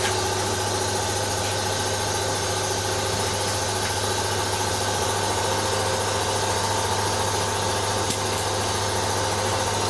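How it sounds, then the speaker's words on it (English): An air compressor runs continuously and loudly nearby in a garage during rust repair on a 1965 Ford Falcon, giving a steady, unbroken motor drone with a constant hum and no talk. "We'll just let the compressor build up."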